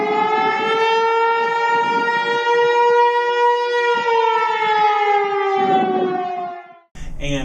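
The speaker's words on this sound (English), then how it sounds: "the old air raid siren tone, you know, that's sort of the whale tone that goes up and down" A loud Vanderbilt tornado warning siren wails in a long, slowly rising and falling whale-like air raid tone, steady and prominent, cutting off abruptly near the end.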